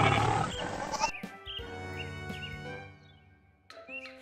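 In an animated Panchatantra moral story, a tiger seizes a goat at night and carries it off, heard as a deep, sustained roar and growl with brief high cries over it, fading briefly before a final snarl.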